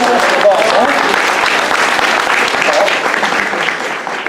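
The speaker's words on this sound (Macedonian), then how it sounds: "Силен аплауз за Митра." An audience claps in sustained, dense applause at a live talk event, loud and even from start to finish, with voices faintly mixed in.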